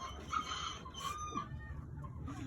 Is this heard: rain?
no